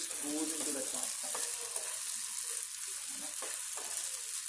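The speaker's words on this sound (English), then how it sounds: "And I'll add this boiled pasta." Boiled garlic pasta frying in ghee in a pan, a close, steady crackling sizzle with soft stirring scrapes and a few brief clicks, moderately quiet and without speech.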